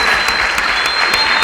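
An audience at a talk on technology and video games gives a speaker a dense, sustained round of applause, loud and continuous throughout.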